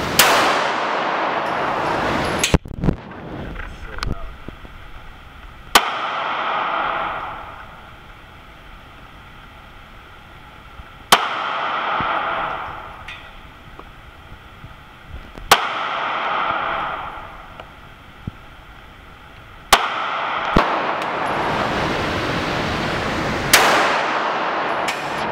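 Colt .45 1911 pistol shots at an outdoor shooting range: sharp, loud, close reports spaced several seconds apart, each followed by a ringing decay, with hiss and range noise between shots.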